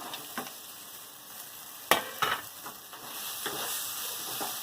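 Fried soybeans are stir-fried with spice paste in a pan, giving a soft, steady sizzle broken by a few sharp spatula scrapes and clicks against the pan.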